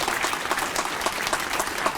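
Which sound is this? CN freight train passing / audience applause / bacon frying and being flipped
audience applause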